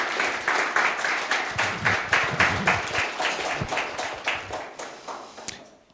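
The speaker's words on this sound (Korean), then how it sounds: "So clap at yourself, which are the triple VIPs." An audience at a company's first anniversary event in Malaysia claps in unison, a steady rhythmic beat of roughly three claps per second that fades out near the end.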